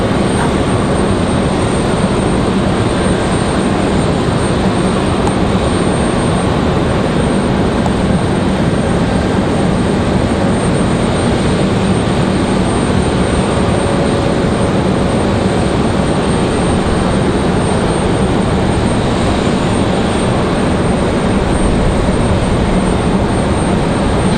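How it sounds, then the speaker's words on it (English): A JetBlue airliner arriving from Boston at Raleigh-Durham roars past loudly, its engine noise a dense, constant rumble and hiss that holds unbroken throughout, with no one speaking. "next arrival, JetBlue 2783. Again, this one coming in from Boston"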